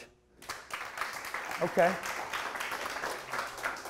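A live audience at a talk claps in a dense burst that carries on steadily, with a speaker's voice briefly over the applause.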